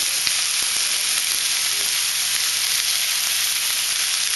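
Leftover pork Thai stir fry sizzling loudly in a pan after sesame oil goes in, a dense continuous hiss close up with a few small clicks, no talk.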